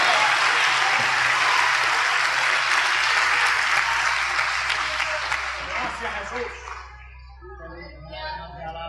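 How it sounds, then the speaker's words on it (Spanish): A church congregation applauds loudly and steadily at a sermon, a dense wash of many hands that tapers off near the end as voices begin to rise beneath it. "Denle un aplauso al Señor Jesucristo."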